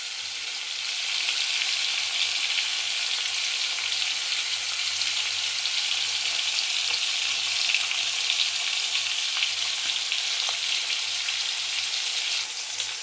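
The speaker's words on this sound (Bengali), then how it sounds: "সবগুলো মাছ কিন্তু খুব ভালোভাবে ভাজা হয়ে গেছে" Prawns fry in a hot pan with a steady, dense sizzle and crackle that holds unbroken at an even level from start to finish, with no talking.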